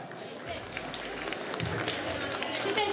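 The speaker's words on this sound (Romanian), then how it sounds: "Aplauze pentru Petronela!" An audience at a Romanian high school freshman ball claps for a quiz contestant, scattered clapping that builds up, mixed with voices and some crowd noise.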